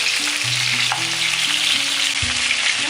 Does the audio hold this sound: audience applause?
no